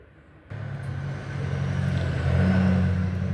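Steady low engine rumble of road traffic heard from inside an open garage, a vehicle note swelling louder partway through, with no voices.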